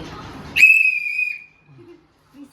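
A single shrill whistle blast, loud and close, holding a steady pitch for about a second before cutting off, followed by quiet with faint low sounds.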